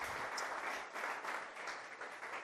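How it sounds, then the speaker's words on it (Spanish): A church congregation gives strong applause during a sermon, a continuous, even rush of many hands clapping at moderate distance for a couple of seconds. "Un fuerte aplauso al Señor"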